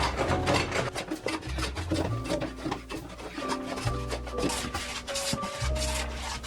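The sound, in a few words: hand plane shaving a wooden board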